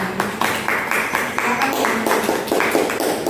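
Classroom pupils clap together during a micro-teaching lesson, a steady patter of overlapping hand claps with a few louder accents, fairly close and filling the room, with faint voices mixed underneath.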